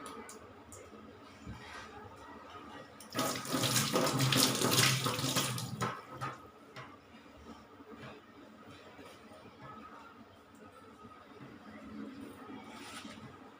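A tap gushes for about three seconds as hands are rinsed, a loud broadband splash that stands out against an otherwise quiet, faintly noisy room.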